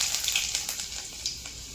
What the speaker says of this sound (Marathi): लसूण टाकून घेऊ आपण.